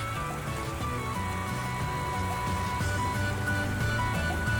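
Steady downpour in the video game Ys X: Proud Nordics, a dense continuous hiss of rain at sea under game music, even in loudness throughout with no voices.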